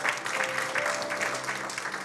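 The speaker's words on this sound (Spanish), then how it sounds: "Denle ese aplauso fuerte a Cristo porque Él es bueno." Church congregation clapping steadily and loudly together, a dense continuous patter of many hands filling the room with no pauses.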